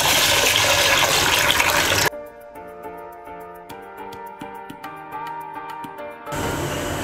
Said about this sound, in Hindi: ये है मेरे पास साबूदाना और मैं इसे पहले दो तीन पानी से वॉश कर लूँगी।